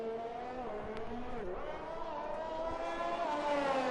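A Ferrari race car engine in a racing video game, a sustained high engine whine shifting in pitch as the car spins, under overlapping commentary voices.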